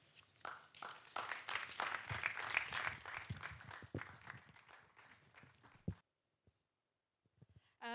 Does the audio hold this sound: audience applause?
yes